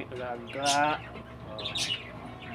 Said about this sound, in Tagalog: Up, may lovebirds tayo.